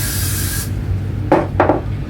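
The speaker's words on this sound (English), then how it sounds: "the last things that I need to do to the wig is spray it with some Got To Be" Got2b hair spray misted onto a wig in two short, close hissing bursts, following a quieter stretch of broadband rustle.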